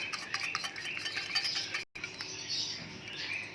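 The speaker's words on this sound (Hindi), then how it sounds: "अच्छी तरह हमने अंडे को फेंट लेना है" Eggs being whisked in a bowl, quick irregular clicking and scraping strokes of a utensil against the bowl, fairly faint and close, with a short pause partway through.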